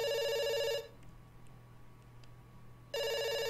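Telephone ringing in the video game Dr Langeskov: a loud electronic bell rings for nearly a second, falls silent for about two seconds over a low steady hum, then rings again.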